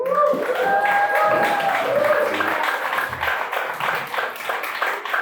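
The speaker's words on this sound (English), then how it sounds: "Can you just raise your hands and everybody clap?" Audience at an award presentation for teachers clapping steadily, many hands in a room, with voices talking over the applause near the start.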